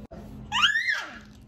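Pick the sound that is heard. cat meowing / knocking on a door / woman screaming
woman screaming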